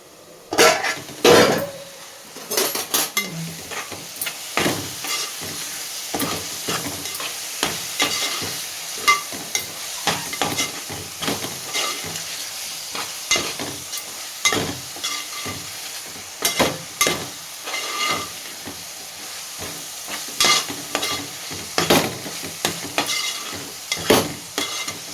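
Brinjal curry (vankaya pachi pulusu) cooking in a pan, with steady close sizzling and frying hiss broken by repeated stirring scrapes and metal utensil clinks against the pan throughout.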